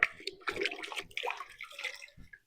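Water running and splashing into a bucket as a canister filter sponge is wrung out by hand, a short burst of uneven trickling and gushes, close and fairly quiet.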